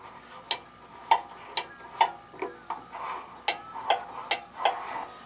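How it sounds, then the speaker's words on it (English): The thermostat of a Kitchen Living double-burner electric hot plate clunks on and off in a series of sharp mechanical clunks and clicks, roughly evenly spaced, close by and fairly crisp, with a faint hum between them and no talking. "the thermostats that they use in here have a really satisfying clunk"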